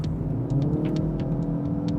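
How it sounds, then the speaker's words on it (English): A 2013 Ford Fusion Hybrid's CVT transmission gives off a steady, droning whine over a continuous engine and road rumble from inside the car while driving, with no talking. "There it is, the sweet sound of a whiny CVT."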